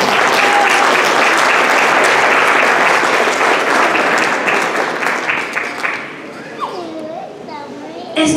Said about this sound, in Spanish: Fuerte el aplauso para artesanos y pirotecnia Pérez Vega.